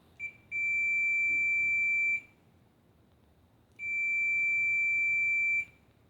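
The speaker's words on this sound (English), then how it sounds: "And you can hear that beeping right there." A continuity tester beeps through a closed kill switch: two long, steady, high-pitched tones, each lasting nearly two seconds, separated by a short quiet gap, clear and close with no talking.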